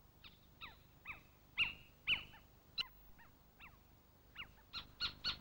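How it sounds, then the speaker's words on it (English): A little owl gives a series of short, sharp barking calls, about a dozen spaced notes of varying loudness, close and clear against a quiet background with no talk. "Little owls produce a whole variety of calls, but by day you are most likely to hear a barking kyo,"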